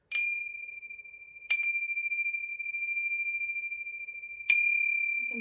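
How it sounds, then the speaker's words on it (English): Tibetan bells are struck three times, each strike giving a bright, clear metallic ding that rings on in a long, pure sustain until the next strike. The bells sound close and alone. "There's some Tibetan bells here."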